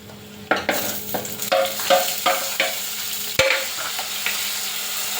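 Tomatoes drop into a hot pan of oil with kasuri methi for a gilki (ridge gourd) sabzi, bursting into loud sizzling, with a series of scraping stirs and one sharp clunk partway through.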